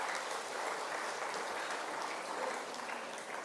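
An audience at a memorial lecture applauds the speaker, a dense, even wash of clapping from many hands that holds steady throughout, with no talking over it.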